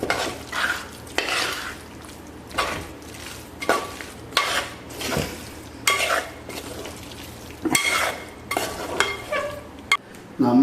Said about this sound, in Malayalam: അപ്പോൾ ഇതിനകത്തൊരു പകുതി ഇരിപ്പുണ്ടായിരുന്നു, അതുകൂടെ ചേർത്ത് നമുക്കിതൊന്ന് ഇളക്കാം.